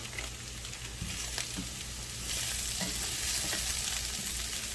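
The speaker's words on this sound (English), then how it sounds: "now we're going to throw in a knob of butter" A knob of butter sizzles and fries in a pan of sauce for a deconstructed beef Wellington, a steady close crackle with stirring, growing a little louder partway through; no talk.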